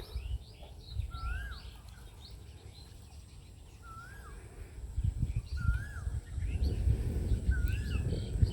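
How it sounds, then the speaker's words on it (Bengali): Birds call beside a field near town, including a koel, whose short rising call repeats four times at a moderate distance over a soft background of chirps and low rumble. "কত সুন্দর দেখেন পাকপাখালির শব্দ কোকিলের শব্দ"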